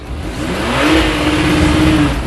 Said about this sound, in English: the blood-curdling growl of the flat six, which is something you could never get enough of